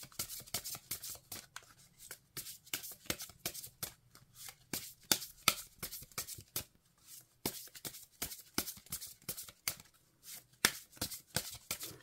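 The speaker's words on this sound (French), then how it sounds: "je vais battre les cartes" Deck of oracle cards being shuffled, a rapid run of crisp riffling and slapping bursts in an uneven rhythm, close but fairly soft, with no talking.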